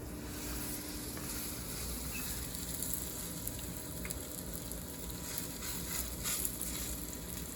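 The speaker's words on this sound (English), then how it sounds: "For a pork chop this size, we'll probably sear nice and hard about 2 minutes." A pork chop sears hard in a hot pan, giving a steady, close sizzle that holds at an even level throughout with a few small crackles and pops and no talking.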